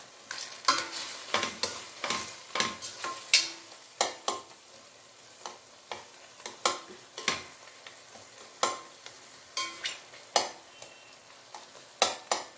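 A spoon stirs softening tomatoes in a pan for an egg tomato gojju, making sharp, irregular scrapes and knocks against the pan over a faint, low sizzle.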